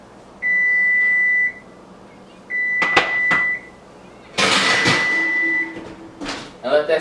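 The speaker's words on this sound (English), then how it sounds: "Timer is about to go off." A kitchen oven timer beeps in three long steady tones, each about a second long and separated by short gaps, with clattering and a person talking in between while mini apple pies are baking.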